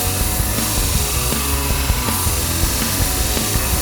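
Bench sharpening machine with a turning wheel grinding a blade for shears, knives or clipper blades, giving a steady loud abrasive whine with rhythmic scraping passes throughout, no talk.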